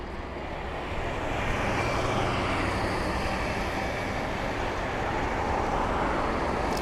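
A British Airways A320-200 airliner arriving from Berlin rolls on the runway at Heathrow, a steady broad jet-engine roar heard from some distance, swelling slightly and holding loud throughout with no talk.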